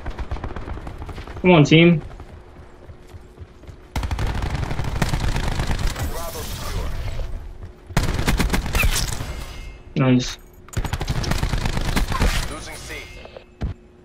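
DMR rifle fire in a Black Ops 4 domination match: sustained bursts of rapid, loud shots in three long stretches, broken by short pauses, with a player's voice talking between them.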